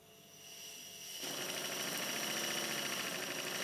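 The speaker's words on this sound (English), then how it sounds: "Time to open the steam valve to send some of this compressed air to the Stuart 1010V." A Stuart 1010V model steam engine fed with compressed air starts up and runs, its quiet hiss swelling into a fast, even mechanical chuffing that holds steady near the microphone.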